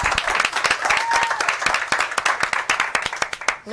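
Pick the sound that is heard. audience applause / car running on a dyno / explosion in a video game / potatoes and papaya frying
audience applause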